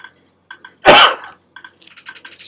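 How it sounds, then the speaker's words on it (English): A single sharp sneeze bursts out at close range, loud and brief, between quiet clicks of a computer keyboard during Minecraft play. "Wheat always makes me sneeze."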